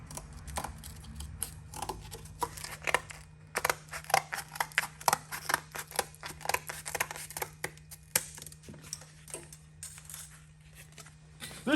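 Repeated cutting of template material during a 1947 Diamond T 201 pickup build, heard as a close, irregular run of sharp snips and clicks with short pauses, over a low steady hum.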